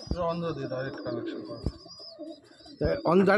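Andhra-breed pigeons coo in low, throaty bursts, close by, with a brief sharp click and a louder flurry of cooing near the end.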